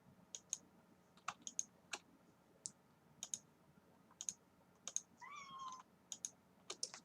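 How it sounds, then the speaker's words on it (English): A cat whines with one short, wavering meow partway through, faint and close, set among a scatter of sharp clicks like keyboard taps in a quiet room. "You are the troublemaker cat that broke our cookie jar lid, so don't whine at me"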